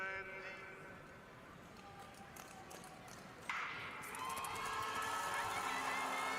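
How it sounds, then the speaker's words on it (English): Crowd cheering in a speed skating hall at a World Cup session in Tomaszow Mazowiecki, a roomy wash of voices that swells suddenly midway and stays louder, with a voice talking over it. "And you can hear a lot of cheering."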